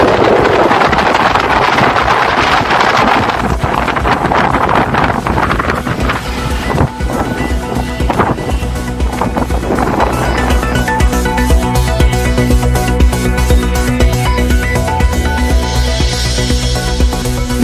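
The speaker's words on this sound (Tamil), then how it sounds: "ராமேஸ்வரம் மற்றும் பாம்பனில் மணிக்கு 60 கிலோமீட்டர் வேகத்தில் வீசும் காற்று." Strong coastal wind gusting at about 60 km/h at Rameswaram and Pamban roars and buffets loudly against the microphone, with the surf and sea in the background and no talking.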